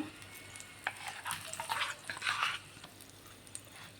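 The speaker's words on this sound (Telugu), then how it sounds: "పచ్చడి అంతా తీసుకొని ఇట్లా మంచిగా అయితే కలిపేసుకోవాలి" Soft, close scraping and stirring of a thick mixture in a pan, with gentle wet squelches and faint clinks; quiet and unhurried.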